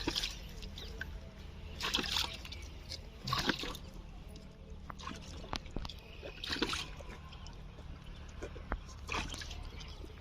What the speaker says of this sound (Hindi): अब ये मेरी मम्मी धो रही है गाय के थन।